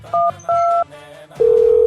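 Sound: phone dialing tones

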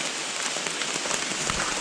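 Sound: rain falling in the forest

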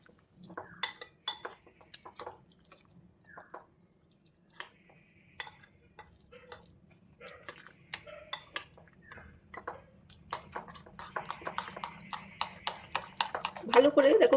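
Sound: spoon mixing batter for cup pitha in bowl

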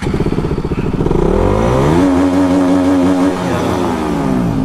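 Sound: KTM RC 200 motorcycle engine revving to rev limit

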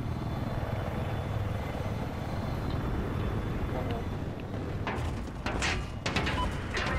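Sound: helicopter in the video game Battlefield 4

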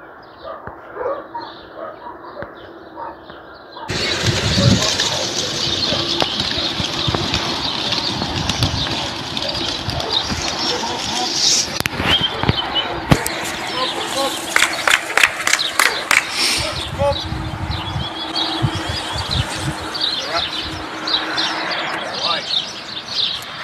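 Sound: racing pigeons released, flapping wings

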